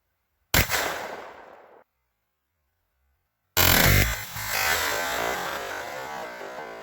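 A 6.5 Grendel rifle fires outdoors, two sharp loud cracks a few seconds apart, each trailing off in a rumbling echo, with nothing else between them.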